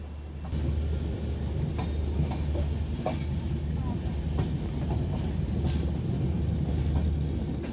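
A Dhaka to Rajshahi passenger train rolls toward the Jamuna bridge, a steady loud rumble of wheels and carriage noise with faint rhythmic clatter throughout, heard from on board.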